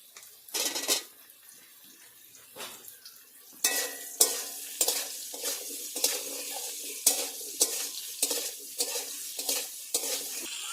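Sliced ridge gourd is stirred into fried potatoes in a hot pan, with repeated scraping stirs over a steady sizzle, close and fairly loud.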